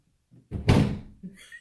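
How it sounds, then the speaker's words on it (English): A door swings shut with a single solid thud in a room, preceded by a faint shuffle and followed by a soft knock or latch click, close and brief. "Hey, Stank, close the door"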